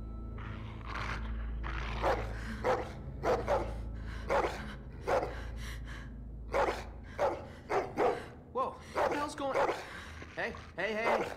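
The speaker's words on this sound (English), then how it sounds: "Dogs brought back bad memories." Dog barking in The Walking Dead: The Final Season video game, a string of sharp repeated barks and yips at close range, with a low rumbling game soundscape running underneath and people talking in between.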